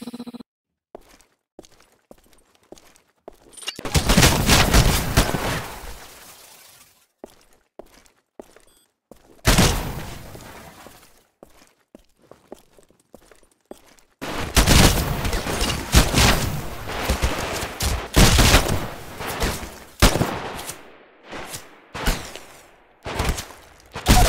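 Gunfire and explosions in a live fire exercise in the Titanfall video game: separate loud volleys and booms with quieter gaps between, and isolated single shots scattered throughout.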